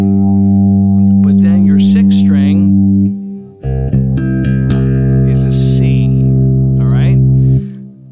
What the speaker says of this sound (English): There's definitely some reverb, right? Hear the reverb.